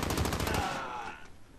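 Rapid automatic gunfire in Call of Duty Modern Warfare, a fast burst of loud close shots that ends after about half a second and fades into a ringing tail.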